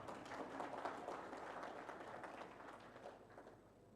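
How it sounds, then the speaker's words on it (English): Meeting participants at a Uganda health project gathering break into sustained group applause, many hands clapping densely and steadily for several seconds before gradually thinning and fading. "If you agree, let's clap."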